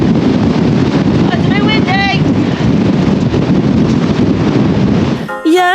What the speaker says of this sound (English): Yes, it was a bit windy and very, very cold.